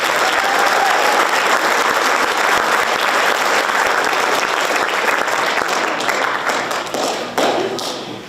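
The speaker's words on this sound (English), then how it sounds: "Please give her a round of applause." An audience at a high school FFA awards ceremony gives a sustained round of applause, dense and loud, that trails off near the end.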